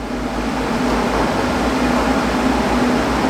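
A steady, loud hiss of compressed air blowing loose powder coat off a freshly sprayed part, a continuous rushing stream with a faint low hum beneath, close up and unbroken.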